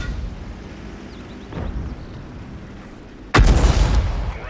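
Tank cannon fire in World of Tanks: a faint distant boom midway, then a sharp loud blast with a rumbling tail, over low battlefield ambience.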